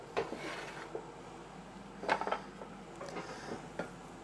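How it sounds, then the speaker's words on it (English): A knife cuts thin slices of snow peas and carrots on a board, giving soft, irregular taps and thuds at close range, with a small cluster of quicker chops midway and no voices. "I'm going to cut some thin slices."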